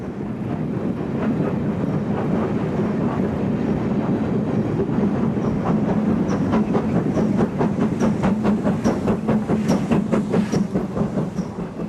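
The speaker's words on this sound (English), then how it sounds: "The top and tail combination of Castle and King approached the site of the former station with caution." Castle and King class steam locomotives working top and tail approach a former station site with caution, a steady loud rumble of the moving train with rhythmic wheel clicks building over the rails, with no voices.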